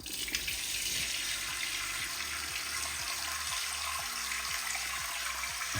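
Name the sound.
modern toilet flushing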